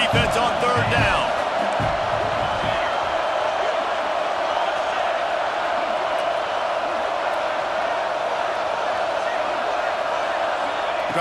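A stadium crowd at a Michigan versus Oregon football game roars behind the defense on third down, a loud, dense, sustained wall of cheering that holds steady throughout.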